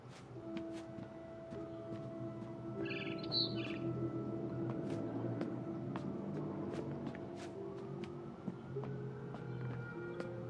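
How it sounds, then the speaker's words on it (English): Bright bird chirps and tweets from outside a window in the video game What Remains of Edith Finch sound over a steady ambient backdrop with soft musical tones, a few short calls scattered through the scene. "Then I heard chirping outside my window."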